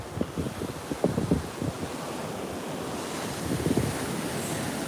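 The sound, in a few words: ocean waves on Ormond Beach, Florida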